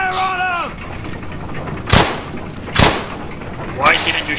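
Squad rifle fire in Brothers In Arms: Hell's Highway, heard as two loud, sharp gunshot bursts spaced about a second apart, with a further burst at the end, after a stretch of tonal voice-like sound at the start.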